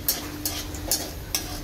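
Cashews and raisins frying in a pan at home, stirred with a spatula in four evenly spaced scrapes over a faint, steady sizzle, quiet and close.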